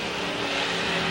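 Sportsman race cars at Capital Speedway in 1985, a dense loud roar of several engines racing together in a brief continuous burst.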